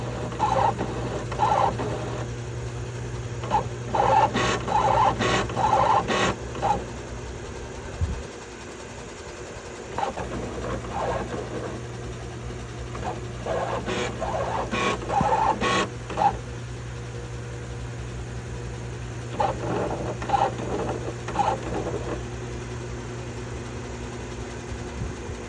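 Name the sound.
HP printer readjusting after ink cartridge change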